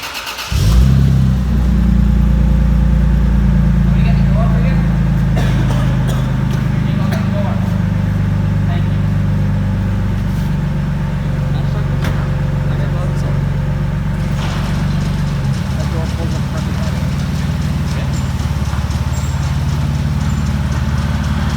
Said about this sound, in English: I'm gonna go for a quick test drive